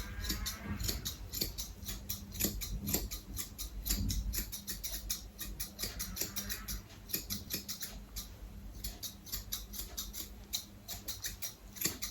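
Scissors snip through hair in quick, close, crisp cuts, a steady run of small clicks repeating throughout with no talking.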